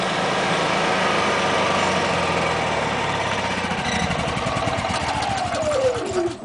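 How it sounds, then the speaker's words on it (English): A Honda EU6500iS inverter generator runs loud and steady, then its engine pitch sinks and the sound winds down as it shuts off at the end. "Now shut the generator off."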